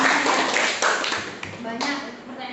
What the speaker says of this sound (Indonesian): ini kasih tepuk tangan dulu untuk yang bagus ya